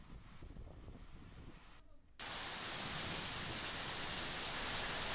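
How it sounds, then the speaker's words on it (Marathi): Unseasonal February rain with hail falling over farm fields makes a dense, steady hiss. It dips briefly near the middle, then returns louder and stays constant. "ही दृश्य अंगावर काटा आणणारी आहेत, कारण फेब्रुवारीच्या महिन्यात पाऊस पडलेला आहे"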